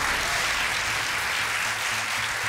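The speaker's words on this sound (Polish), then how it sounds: "Dostałeś brawa." Studio audience on a television quiz show claps steadily, a continuous loud burst of applause with no talking over it.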